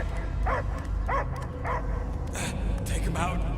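A dog barks and yips in a sci-fi action video game, Guardians of the Galaxy, with several short barks in a loose rhythm, then higher whimpering cries, mixed with other game sound.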